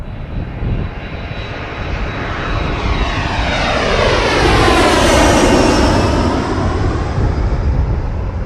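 An airliner arriving on runway 24R at Toronto Pearson passes with a roaring engine whine that builds to a peak and then fades, loud and steady across the whole pass.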